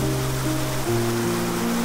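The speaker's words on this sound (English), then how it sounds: "And then it tumbled down as a waterfall, the mountain's voice echoing through the valley." A waterfall tumbling down into a mountain valley, heard as a steady, dense roar of rushing water without pause, loud and close, with no voices.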